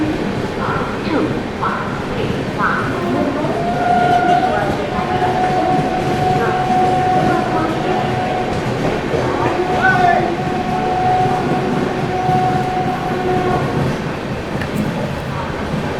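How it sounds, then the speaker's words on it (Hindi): The Gitanjali Superfast Express, running from Howrah to Mumbai, races at high speed past Manmad Junction with a loud, continuous rumble and rattle, and sustained wheel-and-rail tones rising over the roar. "बढ़िया रफ्तार बना लिया भाई ट्रेन ने।"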